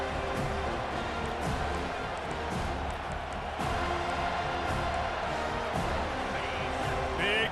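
A stadium crowd roars steadily in EA Sports College Football 25 as a third-down play begins, a dense, loud, sustained wall of cheering that barely rises or falls.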